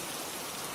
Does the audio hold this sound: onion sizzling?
no